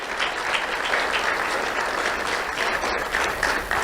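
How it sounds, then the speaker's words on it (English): An awards ceremony audience claps steadily, a dense, even wash of applause from a roomful of people, loud and sustained throughout with no voices rising above it. "Let's have a round of applause for Rich, Norm, and John."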